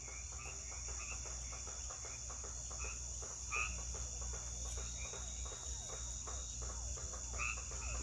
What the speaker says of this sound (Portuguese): O sapo ranha e o sapo martelo.